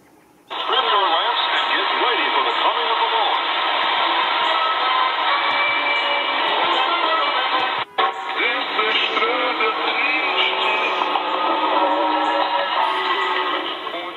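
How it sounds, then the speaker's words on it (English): Shortwave radio tuned to 11940 kHz Spain, slightly off zero beat, heard on a PL-330 receiver: a steady broadcast with continuous talk, loud and close throughout, with one brief dropout partway through. "you'll hear there that 11940 Spain is slightly off zero beat"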